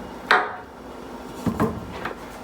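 Peeled boiled potatoes are dropped back into a pan, producing a sharp metallic clunk followed by a couple of softer knocks and a light clatter, close and without any talking.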